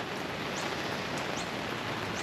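Steady rain falling outdoors at Port Macquarie, an even, unbroken hiss of drops with no voices.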